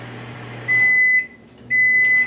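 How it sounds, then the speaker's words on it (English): A microwave oven hums steadily, then sounds two long electronic beeps in succession as it finishes melting chocolate in a home kitchen. "My microwave just went off, so I'll take the chocolate back out."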